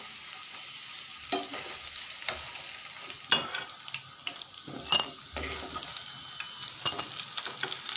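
Bananas frying in hot oil until reddish, giving a steady close sizzle with scattered stirring clinks and scrapes of a utensil in the pan, no voices.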